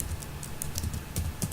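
Rapid clicking of keys on a computer keyboard, a short close burst of irregular taps with no voice.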